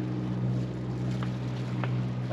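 The engines of a Leopard 45 catamaran run at sea in calm, windless conditions, giving a steady low droning hum with a constant hiss of water and air throughout.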